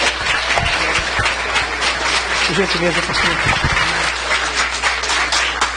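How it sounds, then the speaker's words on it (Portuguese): A church congregation applauds a reverend in a steady, dense wash of clapping, while someone speaks briefly over it near the end. "Os irmãos recebem o reverendo com a linda salva de palmas."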